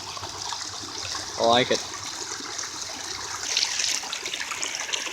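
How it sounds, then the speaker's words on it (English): A little waterfall in a flooded river pours steadily, a constant rushing wash of water heard from close by, with a brief spoken voice over it partway through. "little waterfall down there, but just a little bit of a waterfall-ish"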